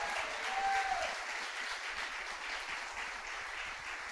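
A church congregation breaks into loud, sustained applause during a worship service, a dense wash of clapping that holds steady throughout with no talking over it.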